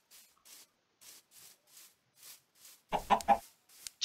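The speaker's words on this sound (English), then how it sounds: "Hello, chicken." A chicken clucks in a short burst of several loud, close calls, following a series of faint, soft rustling or scratching sounds spaced out before it.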